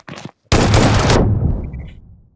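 Game gunfire in PUBG: a short burst of shots, a brief gap, then a loud sustained volley that decays into a fading echo tail.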